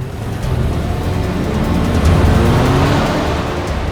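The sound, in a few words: white Ambassador car making a U-turn and driving off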